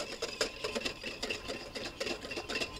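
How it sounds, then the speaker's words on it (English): Mayonnaise and yogurt whisked together in a large bowl, a quick steady rhythm of light clinking and scraping strokes repeating close up throughout. "Whisk those ingredients together."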